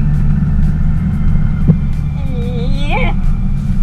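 A Nissan Navara pickup truck driving on a road, heard from inside as a loud, steady low engine and road rumble throughout, with a brief squealing tone near the end.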